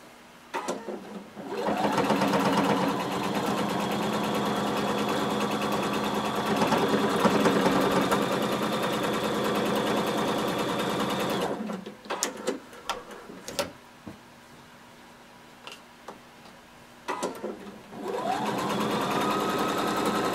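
A sewing machine runs steadily while stay stitching a jumpsuit, a long even whirring stretch of about ten seconds, then short stop-start bursts, pauses and clicks before it resumes.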